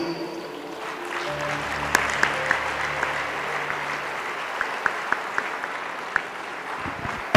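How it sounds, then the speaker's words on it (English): An audience claps steadily for a speaker arriving at a podium at a Nigerian professional institute event, with continuous applause and a few sharper individual claps standing out above the wash. "Please, let's keep clapping till Pastor Oladele comes to the podium."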